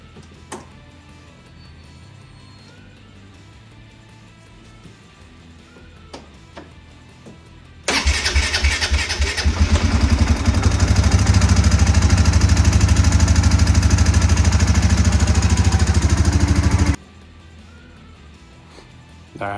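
Polaris ACE off-road vehicle engine cranking to life and running, a loud, close, rough rumble holding steady for about nine seconds before shutting off, with quiet background before and after.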